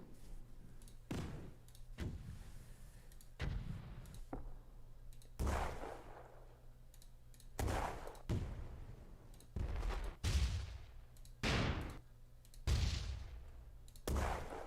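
Small explosion sound effects for a video game previewed one after another, about ten short sharp bangs and cracks each trailing into a brief decay, separated by quiet gaps.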